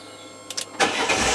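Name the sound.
Fiat 500 Dualogic engine starting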